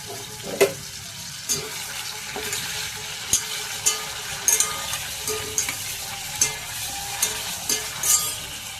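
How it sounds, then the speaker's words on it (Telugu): Paneer cubes frying in a pan for a paneer curry, a steady crackling sizzle of oil with repeated sharp scrapes and knocks of a spatula stirring at an irregular rhythm, close up with no talking. "పన్నీర్ కర్రీ కోసం అయితే పన్నీర్ ఇలా ఫ్రై చేసుకోవాలండి"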